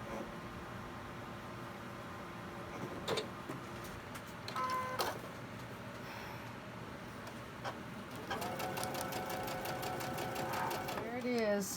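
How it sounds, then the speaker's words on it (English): A sewing machine stitches a quilt block, right sides of the fabric together, running in a few short bursts and then a longer steady run near the end, with a person talking over it. "We're going to stitch between number 1 and number"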